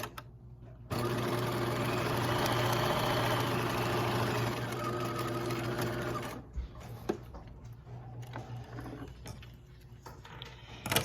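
A home sewing machine runs a long continuous stitch along a garment seam with right sides together, a close steady motor hum and needle chatter that then slows and stops, followed by quieter handling clicks.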